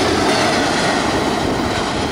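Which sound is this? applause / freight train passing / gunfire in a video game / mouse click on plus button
freight train passing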